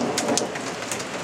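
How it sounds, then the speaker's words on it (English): Hail pelting down hard during a hailstorm, a dense, loud, continuous patter of impacts with no voices. "the hail was coming down like crazy"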